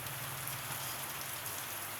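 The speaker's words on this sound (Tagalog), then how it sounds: "Kasi malakas ang ulan, ha?" Dense, constant downpour drumming on a surface, close and loud, with no voices.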